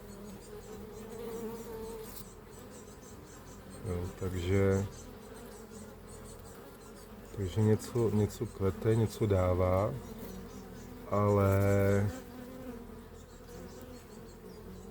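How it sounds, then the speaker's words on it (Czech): Honeybees hum steadily around a hive in the Písek region of Bohemia, a continuous close buzzing that carries under someone speaking Czech, with his voice rising over the buzz several times. "ty včely proto musí vylítnout brzo ráno"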